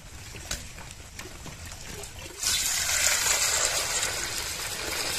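Cut pieces of Reva fish are washed in a pot of water in a village kitchen, with sloshing and splashing that starts faint and then turns loud and steady about halfway through.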